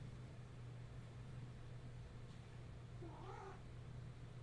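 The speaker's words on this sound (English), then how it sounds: "Yes, cat?" A house cat gives a single short meow, faint and somewhat distant, over a steady hum of room noise.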